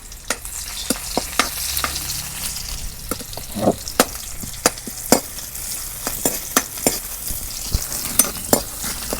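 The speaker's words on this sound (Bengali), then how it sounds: "গরম হচ্ছে, আমি পেঁয়াজ কুচি দিয়ে দিলাম।" Chopped onion fries in hot mustard oil in a wok. A steady hiss runs throughout, broken by sharp, irregular clacks of a spoon stirring against the pan.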